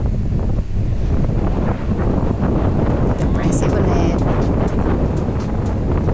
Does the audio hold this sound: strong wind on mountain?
yes